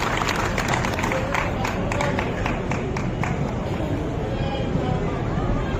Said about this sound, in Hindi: जोरदार तालियां एक बार माननीय मंत्री महोदय के लिए